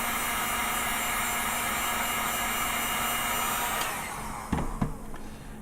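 A heat gun blows hot air onto a vinyl model kit part, a steady, loud whooshing blower noise that tapers off near the end, followed by a few light handling knocks.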